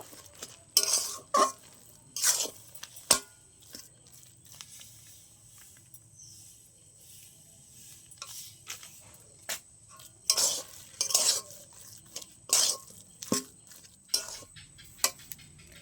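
Semolina dough being stirred and pressed in a pan while it firms up, giving repeated scraping and knocking strokes in uneven bursts, some loud and close, with quiet pauses between and no talking.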